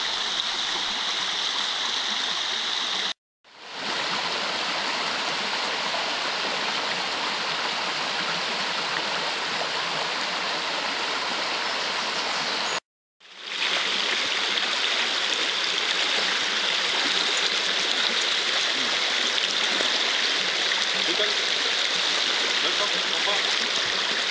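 A river current flowing in a wild setting, a steady, dense rush of water heard close by, broken by two brief cuts.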